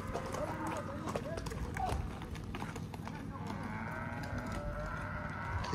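Horses and cattle on a ranch in Baviácora, Sonora, with hooves clip-clopping and the occasional moo amid a busy crowd and ongoing chatter, along with a steady, close hum of outdoor activity.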